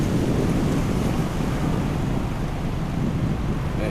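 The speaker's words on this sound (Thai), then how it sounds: "ฟังเสียงขึ้นทะเลไปก่อนแล้วกัน" Sea surf at Chao Samran beach in Thailand rolls in as a constant loud wash, heavily mixed with wind buffeting the microphone, with no voices.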